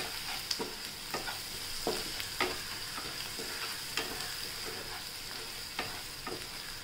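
Turmeric and salt being stirred in a frying pan, with a spoon scraping in irregular strokes over a steady sizzle, close and clear, with no talking.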